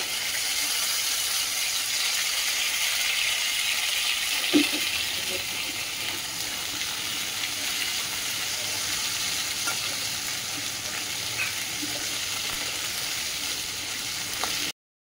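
Ginger paste frying with salt and turmeric in a pan gives a steady, loud, continuous sizzle for the whole stretch, with a brief clack of a spoon near the start and faint stirring scrapes underneath.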